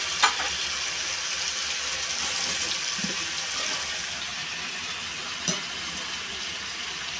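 Potato and raw banana fritters in gram-flour batter frying in hot oil, a steady broad sizzle running throughout with a few brief sharper crackles and pops, fairly close and even in level.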